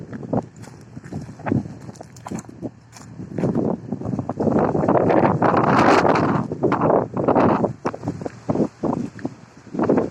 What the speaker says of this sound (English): It's a lot of wind today.